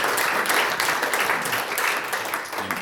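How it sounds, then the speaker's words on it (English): An audience applauds at the close of a panel discussion, a dense, steady wash of clapping that holds for the whole stretch and fades slightly at the end. "So, round of applause for Alan and"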